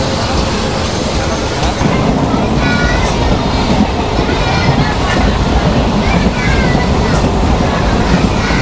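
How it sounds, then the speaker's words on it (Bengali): Katihar–Radhikapur passenger special train running on rails, a steady loud rumble and rattle of wheels continuing throughout with no pause, heard from on board. "রাধিকাপুর প্যাসেঞ্জার ট্রেনে।"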